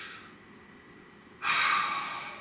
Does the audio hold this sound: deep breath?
yes